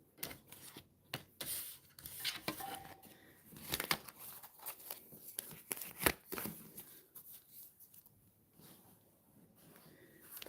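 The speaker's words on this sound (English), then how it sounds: "then I'll shuffle the cards for Pisces" Soft riffling and rubbing of tarot cards being shuffled, quiet and close, with repeated light flicks and slides and no talking.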